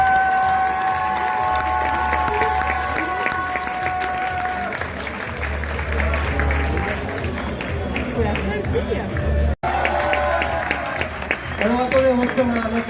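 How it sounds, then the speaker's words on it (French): Graduation ceremony for a web development class, with a crowd applauding steadily throughout, cheering and voices mixed into the clapping, and music-like tones early on. "merci d'applaudir les experts du développement web"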